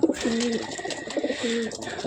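A light-biscuit-coloured pigeon coos close by, two soft throaty rolling calls repeated over a faint background hum.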